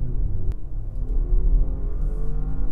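A 2021 Jaguar E-Pace P300e R-Dynamic S plug-in hybrid accelerates on the road, its engine revving with a low, rising rumble heard from inside the cabin.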